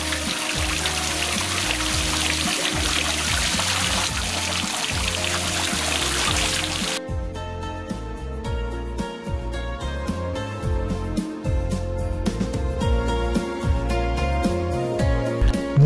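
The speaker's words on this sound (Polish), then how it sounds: "Dla lubiących szum wody urządzono niewielkie oczko wodne z wodospadem i małą" Water splashes and trickles steadily from a small waterfall and fountain in a garden pond, a continuous close rush that shifts in character partway through, with no talk.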